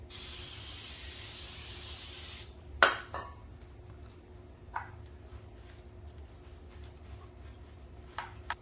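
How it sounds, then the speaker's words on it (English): A close aerosol can of brake cleaner hisses steadily for about two seconds, sprayed on the exhaust header pipe of a 2010 Suzuki GSX-R motorcycle, then stops, followed by a sharp clank and a few faint metallic taps in a quiet space. "Let me go grab the brake clean, spray off this exhaust header pipe."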